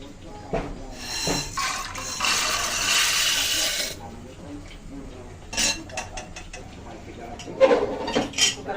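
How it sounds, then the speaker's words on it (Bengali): Dry lentils rattle and pour into a metal pressure cooker in a noisy rush, followed by clinks of a spoon and utensils, with someone talking now and then. "আমি এখন ডালগুলো দিয়ে দিচ্ছি"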